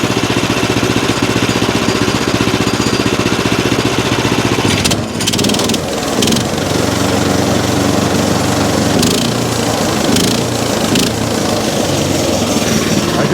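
A two-cycle engine on a wood mill runs loudly and steadily, with its buzzing drone shifting pitch a few times as the throttle changes, and no voices over it.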